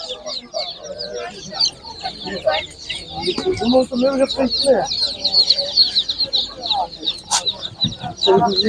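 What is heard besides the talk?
colourful chicks and chickens clucking at animal market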